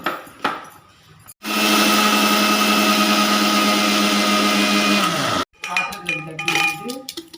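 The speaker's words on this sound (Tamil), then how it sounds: "எள்ளு அரைக்கிறதுக்கு மிக்ஸார் எடுத்துருக்கேன்" An electric mixer grinder grinds sesame seeds with a loud, steady whirring roar lasting a few seconds. The motor pitch drops as it switches off, with short kitchen clatter before and after.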